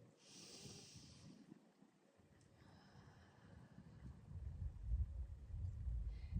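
A slow, deep breath during a grounding yoga session, a soft airy inhale followed by a long, gradually swelling exhale, close and quiet with no talking.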